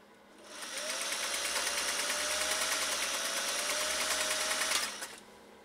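A Singer 500A sewing machine runs a steady stitching burst for about four seconds, a fast even mechanical whirr and needle clatter that starts and stops cleanly, close and alone.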